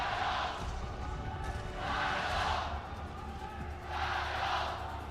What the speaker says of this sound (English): Oh shit, they're cheering.